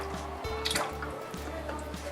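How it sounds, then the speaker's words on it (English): Milk poured into a pot of homemade potato cheese soup, giving soft liquid drips and a brief splashy fill over a steady low hum, close and fairly quiet. "so add some more milk"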